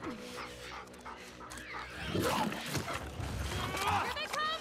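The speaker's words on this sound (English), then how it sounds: "For once, I'm fighting with the dogs, not against them." Dogs bark and whimper during a fight in The Last of Us Part II, with sharp yips and whines clustered in the second half, mixed with game effects and someone talking over them.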